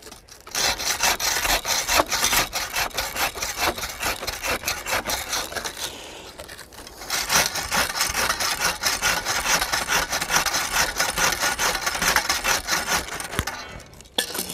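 A hand saw cutting old dry pine outdoors, heard as steady rasping strokes in a fast continuous rhythm, close and fairly loud, with a short pause midway before the sawing resumes.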